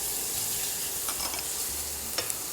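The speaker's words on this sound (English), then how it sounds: "So now we're going to go in with our onions." Onions going into a hot pot of dark curry seasoning, frying with a low steady sizzle and a few clinks and scrapes of stirring, fairly quiet.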